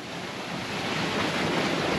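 Wind rushes and ocean waves wash continuously around a sailing yacht crossing the Pacific toward Nuku Hiva in 16 to 20 knots of breeze, a loud, broad, steady roar of surf and gusts with no voices.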